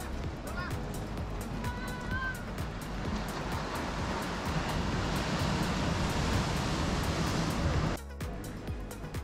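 Ocean surf rolls continuously onto the rocky shore at Uluwatu beach in Bali, a broad steady wash of breaking waves with faint bird calls and voices mixed in.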